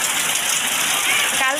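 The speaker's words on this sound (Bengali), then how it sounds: "এই যে অনেক সুন্দর বৃষ্টি হচ্ছে, কি পরিমাণ বৃষ্টি" Heavy afternoon rain pours in a dense, steady hiss close by, loud and unbroken, with a person's voice briefly audible beneath the downpour.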